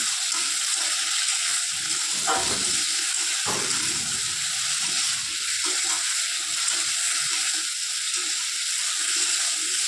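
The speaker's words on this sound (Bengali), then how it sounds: "আলুগুলো একটু ভাজা ভাজা করে নিলাম।" Potatoes sizzle in hot oil with turmeric and salt, a steady loud hiss throughout, broken briefly by a couple of stirring scrapes and clatters close by.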